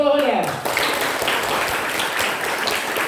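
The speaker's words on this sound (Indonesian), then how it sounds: "Tepuk tangan untuk seluruhnya." A crowd applauds at a PSHT gathering, a broad wash of clapping that follows a brief voice and a descending tone at the start and carries on steadily.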